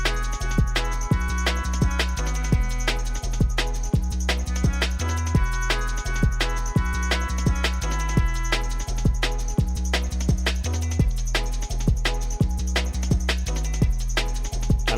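Dubwise drum and bass loop with punchy drums, deep 808 bass, offbeat reggae chord stabs and a sampled melodica line, dense and steady throughout at full level, no voices.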